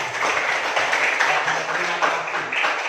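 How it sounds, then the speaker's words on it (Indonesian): A classroom of students claps for a classmate named Adi, steady dense applause running throughout at moderate loudness, with faint voices mixed underneath. "mari kita berikan tepuk tangan kepada si Adi"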